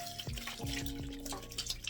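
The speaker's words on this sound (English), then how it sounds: "I'm gonna wash my hands." Tap water runs into a low bathroom sink during handwashing, close by, with dripping and splashing plus a few soft clunks, and no talking.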